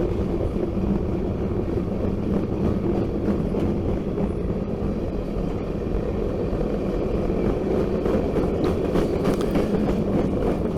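A Norfolk Southern train rolls past in rural South Georgia with a continuous loud rumble and rail noise, steady throughout and with no talking.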